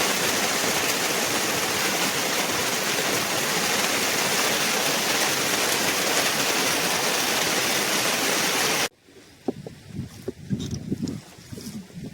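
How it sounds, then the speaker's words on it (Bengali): Rain pouring on the Matla River in the Sundarbans during a stormy fishing trip, a dense, loud roar of falling water that cuts off abruptly, leaving quieter boat and water sounds. "দোন তোলার সময় আবারও বৃষ্টি শুরু হয়ে গেছে"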